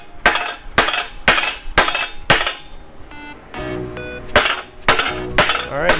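Repeated sharp hammer taps on metal in a steady rhythm, lightly driving a bushing into a Nissan 350Z rear subframe, with a brief ringing pause midway before the blows resume, close and loud.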